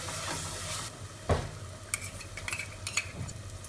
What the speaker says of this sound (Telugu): ఇది కూడా మంచి వాసన వచ్చేంత వరకు వేయించుకోవాలి.